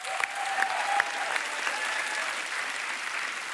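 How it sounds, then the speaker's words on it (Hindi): Steady studio audience applause fills the whole stretch at a comedy talk show taping, dense clapping from a large crowd, loud and even from start to finish with no talk over it. "लेकिन एक बार तो जोरदार तालियां यार"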